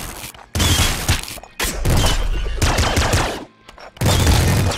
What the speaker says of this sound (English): a lightning shotgun. I've never gotten a lightning shotgun before.